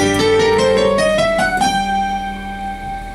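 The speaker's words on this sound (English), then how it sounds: "Then the whole half diminished scale variant goes like this." A fast ascending whole-half diminished scale in G on piano, notes stepping upward in quick succession before the top note rings out and decays.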